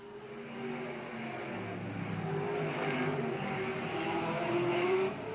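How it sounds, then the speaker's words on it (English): Race car number 21 accelerates around the Willamette Speedway oval during a 1988 night race, its engine a continuous, building roar heard from trackside with a faint crowd wash beneath. "He's waking up that car, and it's really moving on the track right now."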